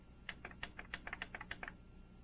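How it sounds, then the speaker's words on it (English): Rapid series of about a dozen light plastic clicks from buttons pressed on a Kurzweil K2600 synthesizer, quiet and close, evenly spaced over two seconds with no talking. "then press the write more button 6 times"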